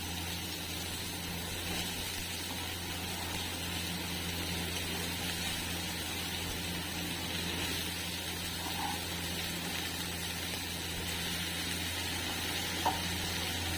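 Steady sizzle of bottle gourd pieces frying in oil in a pan, a continuous even hiss that runs unbroken and fairly quiet, with an occasional faint clink.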